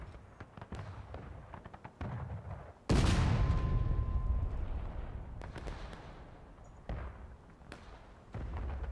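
Artillery cannon firing in the Civil War video game War of Rights, one heavy close boom with a long rumbling decay, surrounded by scattered distant musket cracks and faint battlefield noise, without talk.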